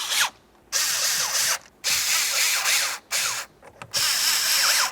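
Power tool bursts snug the mounting bolts on a 2005-2010 Chevrolet Cobalt airbag clock spring. There are four or five whirring, ratcheting runs of about a second each, close and loud, with brief pauses between them.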